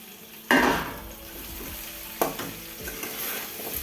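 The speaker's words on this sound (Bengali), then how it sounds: "ভালো করে নেড়ে নিচ্ছি" Bitter gourd that was fried earlier is stirred in a pan with bay leaves, giving a sharp scrape at the start and another midway over a steady frying sizzle.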